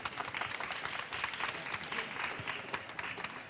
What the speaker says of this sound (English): Please give an applause to our panel.